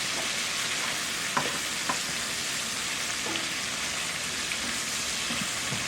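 Chicken and sausage sizzle steadily in a gumbo pot, a continuous broadband frying hiss with a few faint utensil clicks and stirs, fairly close and with no talk.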